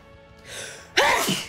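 A single loud sneeze bursts out about a second in, following a softer intake of breath, over faint background game audio during a Pokémon Let's Go Pikachu play session.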